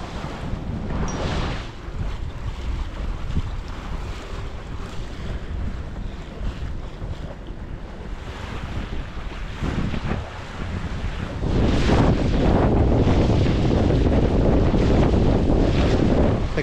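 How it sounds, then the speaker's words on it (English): A sailboat beats upwind on a brisk sail back to Staniel Key in the Bahamas. Strong wind buffets the microphone over the rush and slap of waves against the hull, and the sound grows louder and denser toward the end. "it's time for a brisk upwind sail back to Staniel Key"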